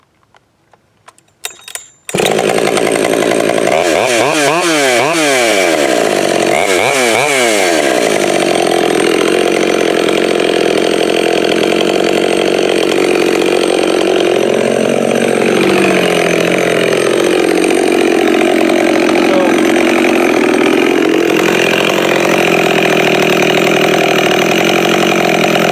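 A Husqvarna 572 chainsaw with a pop-up piston and muffler mod runs at high idle after a few starting clatters, holding a loud, close, sustained buzz whose pitch rises and falls a few times.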